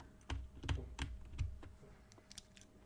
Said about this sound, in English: So, have my little keycap remover here. And then my switch remover.